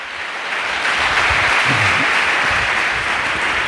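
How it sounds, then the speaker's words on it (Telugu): A church congregation claps steadily and continuously, a dense wash of applause that swells slightly at the start and holds without speech. "ఒకసారి అందరూ సంతోషంగా చప్పట్లు కొట్టి"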